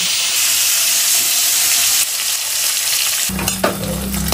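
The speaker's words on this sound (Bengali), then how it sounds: "মাছগুলো ভেজে নেব।" Rohu fish pieces frying in hot oil in a kadai make a dense, loud, continuous sizzle up close, which drops abruptly near the end into a lower hiss and a brief clatter.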